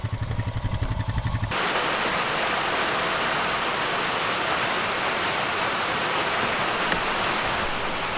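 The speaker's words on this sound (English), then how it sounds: "That's a normal rain." Steady, dense rainfall pattering on a surface, loud and continuous, starting abruptly after a brief moment of other noise.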